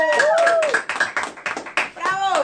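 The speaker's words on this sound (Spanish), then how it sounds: "fuerte aplauso" A church congregation claps loudly for a pastor, the rhythmic claps mixed with a strong voice that carries over them.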